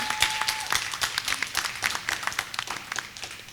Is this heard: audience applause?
yes